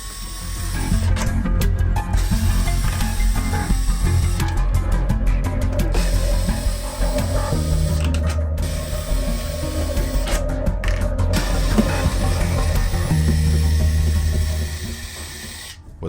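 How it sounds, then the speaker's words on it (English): A Fast Tech Auto electric screwdriver backs out seven long Phillips screws from a PS3 console casing, giving repeated bursts of whirring and ratcheting with brief pauses between screws, close and fairly loud. "we're going to use our Fast Tech Auto tool, which is going to save us a lot of time when doing electronics disassemblies, and remove these long Phillips screws"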